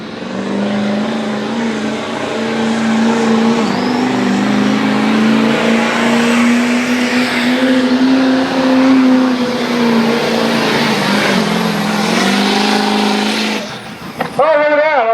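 A GMC pulling truck roars at full throttle during a truck pull at the Grease, Steam and Rust Show in McConnellsburg, PA, a loud sustained engine drone with a slowly rising pitch that cuts off near the end, with an announcer talking.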